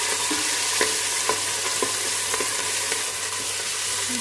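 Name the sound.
curry leaves frying in oil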